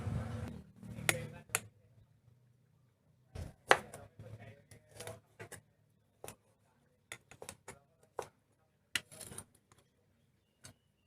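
A knife chops garlic on a cutting board in scattered sharp taps, some in quick bursts, with quiet pauses between them.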